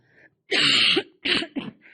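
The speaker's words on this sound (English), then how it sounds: "Please edit out that coughing." A few harsh coughs in quick succession, close and loud, with brief pauses between bursts and no talking.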